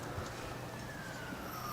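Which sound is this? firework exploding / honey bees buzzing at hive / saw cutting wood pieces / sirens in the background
sirens in the background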